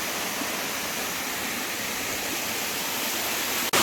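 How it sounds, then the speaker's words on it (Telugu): Water pours steadily down a waterfall beside a cave, a dense continuous roar close by that stays even throughout, with a sharp brief knock near the end. "పైన చూసారా వాటర్ ఎలా పోతున్నాయో"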